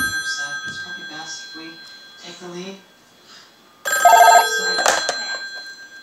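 Vintage rotary telephone with a mechanical bell gives a short loud ring burst, with a second brief ring after it, following a stretch of talking.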